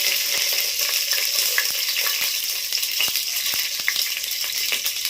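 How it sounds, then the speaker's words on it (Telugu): A 1.5-inch piece of cinnamon stick fries in hot oil for egg biryani, giving a steady bright sizzle with scattered small crackles and pops, close and continuous, with no voices. "ఇప్పుడు అది వేగుతుంది కదండి"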